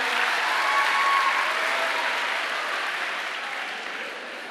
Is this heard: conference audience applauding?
yes